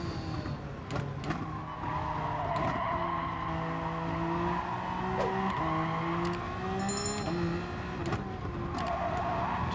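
A race car in the GT Sport video game accelerates and brakes through corners, engine pitch rising and falling repeatedly with tire skid and squeal, loud and continuous.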